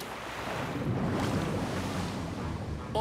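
Open-sea waves in a cartoon underwater adventure: a steady, full wash of surf and wind noise rolling continuously at moderate level, with no voices.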